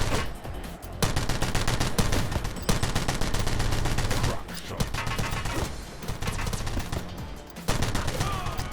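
Gunfire fills a fast shooting sequence in The Club, a PC shooter game: dense, near-continuous bursts of rapid automatic shots with brief gaps, loud and close, with a voice talking over part of it.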